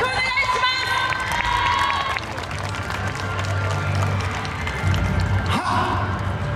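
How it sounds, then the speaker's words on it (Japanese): Crowd cheering and applause greet the HAKU dance troupe's final parade performance at the Urayasu Festival 2019, a dense, steady outdoor roar with shouts throughout. "温かい拍手をよろしくお願いします。"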